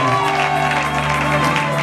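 A church congregation in Kinshasa cheers and acclaims God together, a dense, steady wash of many voices and tones sustained loudly without pause.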